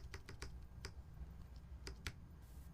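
Keys on a TX-60 mechanical keyboard with PBT keycaps click faintly in short bursts, a few separate taps with gaps between them, quiet and close over a low background hum.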